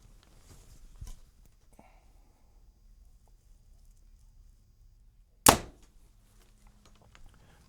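An Elite Artus compound bow set at 70 pounds and 30-inch draw releases an Easton Sonic arrow, one sharp loud snap of the string followed by quiet, with a fainter thump earlier.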